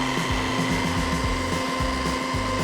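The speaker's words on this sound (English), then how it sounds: "turn the wheel to medium speed, apply the yellow compound and start polishing" Polishing wheel running at medium speed buffs a metal part of a 1945 fishing rod with yellow compound, giving a steady whirring hum with rhythmic low thumps and rubbing, close and continuous.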